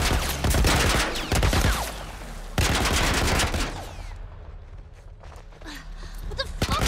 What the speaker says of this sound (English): What the fuck are you shooting at us with?